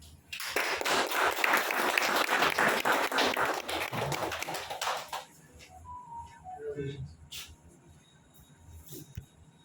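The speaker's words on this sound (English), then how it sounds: "a huge round of applause for Jeet Ram ji" Audience applause at a corporate felicitation ceremony for The Window Mart, a dense crowd clapping for about five seconds before fading into quieter room noise and speech-like tones.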